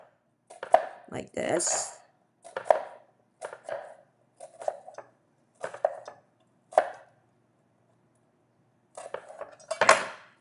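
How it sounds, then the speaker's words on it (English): A knife slices an onion on a board in a few separate bursts of crisp cutting and tapping, separated by silence, with a brief voice near the end. "I just slice them into thin slices, but not all the way through"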